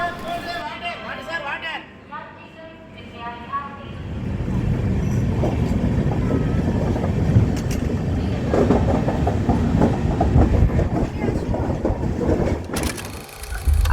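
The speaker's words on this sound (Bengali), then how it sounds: "এখন আমরা ছাড়ছি গুডুর জংশন" An express train pulls out of Gudur Junction, its wheels building into a loud, rhythmic clickety-clack over the rails after a quieter start, with a voice talking over the opening seconds.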